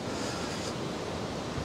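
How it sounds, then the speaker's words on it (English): A river in Norway rushing past as a steady, dense wash of water noise, close and loud and unbroken throughout, with no voices. "let's check out the river"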